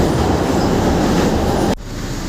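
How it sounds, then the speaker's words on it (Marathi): A suburban train running, a loud near rumble of wheels and carriage noise that stops abruptly near the end, leaving quieter background hum. "आज आहे पूर्ण रिकामी ट्रेन"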